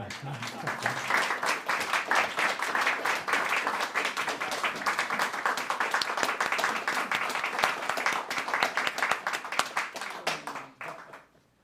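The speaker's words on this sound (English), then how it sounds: "So with that, I suppose we should all bow and clap for Chris" Audience clapping in a hall at a gathering on sacred sites, a dense, steady patter of many hands sustained for about ten seconds before fading out abruptly at the end.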